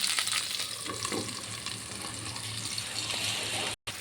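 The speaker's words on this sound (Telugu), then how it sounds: "ఫ్రై చేసుకుందాం బెండకాయ ముక్కలు పైన నల్లగా వచ్చే వరకు" Okra pieces fry in a covered pan for a sambar, giving a steady, close sizzling hiss with faint stirring underneath and a brief dropout near the end.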